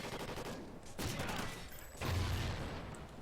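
Gunfire in the online shooter Call of Duty: Ghosts, heard as a few heavy booming shots and a short burst, moderately loud against game ambience, with no talk.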